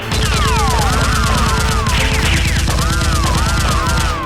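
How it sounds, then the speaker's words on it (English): Nerf guns fire continuously during a staged fight, a dense loud barrage of rapid bursts with whirring sweeps laid over it, steady and up close throughout. "Roll rushes out firing continuously at a henchman, and his companions fire back at Roll"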